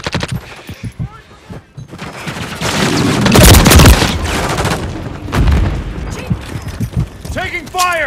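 Gunfire in Call of Duty: Modern Warfare III multiplayer, with bursts and rapid automatic fire swelling into a loud sustained barrage mid-clip alongside booms, under radio-style voice callouts and chatter.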